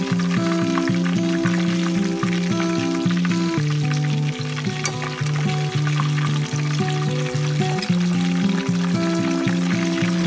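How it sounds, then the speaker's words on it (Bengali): Chicken cheese cutlets fry in hot oil, a steady, loud sizzle and bubbling crackle running unbroken throughout, with no voices. "ভালো করে ফ্রাই করে নেবেন"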